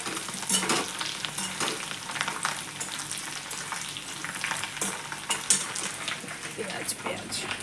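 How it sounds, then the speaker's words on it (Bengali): Potatoes frying in a pan, a dense crackling sizzle with stirring scrapes that stays steady and close throughout. "আলুটা দেখতে পেলে হালকা লাল লাল ভাজা আমার হয়ে গেছে"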